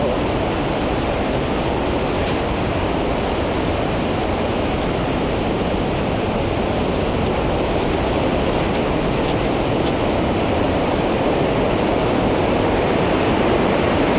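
Bomod-ok Falls in Sagada, a 60-metre waterfall, pouring as a loud, dense, unbroken roar of rushing water that stays constant throughout.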